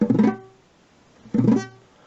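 Two strummed guitar chords played with flat, bent fingers, each ringing briefly and sounding muted and dull before fading, separated by a short pause.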